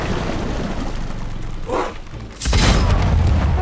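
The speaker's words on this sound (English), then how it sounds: "didn't make as many cannon sounds as I was hoping" Ship cannons fire in the strategy video game Humankind, a muffled boom followed by a louder, sharper blast with a rumbling tail, no talking.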